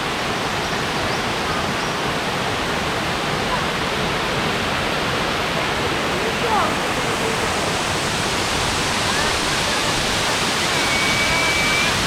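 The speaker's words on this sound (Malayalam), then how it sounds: "ഇതാ കണ്ടോ വെള്ളം ചാടുന്നേ ഭയങ്കര ഭീകരമായൊരു വെള്ളച്ചാട്ടം കേട്ടോ" A steady, loud roar of falling water fills the whole clip, a dense unbroken rush like a large multi-tiered waterfall close by at Kakkadampoyil.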